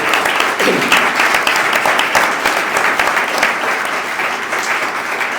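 Applause fills the room at a Madrid round-table talk on great Spanish collections, a loud, dense, sustained ovation from a sizable audience with no pauses across the clip.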